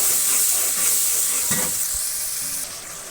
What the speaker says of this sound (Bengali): এখন সমস্ত মশলাটা আমি সুন্দরভাবে একভাবে একবারে কষিয়ে নেব